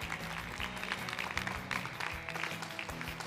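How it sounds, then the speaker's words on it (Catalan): Audience applause at a school spelling competition, a short, quiet patter of clapping hands lasting a few seconds. "també fem un aplaudiment per a ells"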